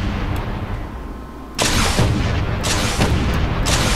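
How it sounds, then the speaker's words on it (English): A video game weapon lets off rockets in a Star Wars mod for Space Engineers. A steady rumble gives way to loud, sustained booming blasts that repeat several times in quick succession. "And then, of course, we have our rockets."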